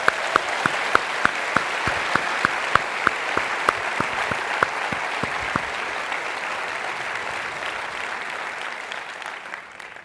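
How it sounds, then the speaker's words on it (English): An audience applauds at a tapping workshop, a few loud distinct claps at first that quickly blend into a sustained wash of crowd clapping that fades slightly toward the end. "Round of applause for that."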